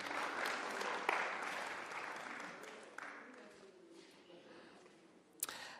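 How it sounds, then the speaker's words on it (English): Audience applause at a Casual Day 30th celebration and launch event, steady clapping from a crowd that tapers off gradually, with a few sharper claps standing out. "Let's give another round of applause to Alex."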